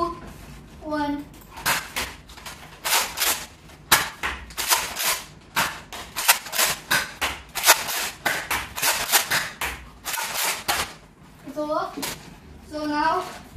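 Nerf Accustrike Raptorstrike blaster firing a rapid series of sharp snapping shots, dense and close, with a voice speaking at the start and end.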